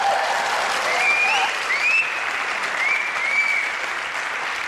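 Warm applause from a 1997 Turkish television talk show studio audience, steady clapping throughout with a few scattered whistles rising above it, fading slightly toward the end.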